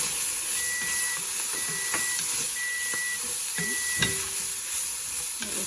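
A kitchen timer beeps in short repeated electronic tones, several bursts of a steady high pitch, over the continuous hiss and sizzle of turkey, seasonings and corn cooking in a pan, with no voices.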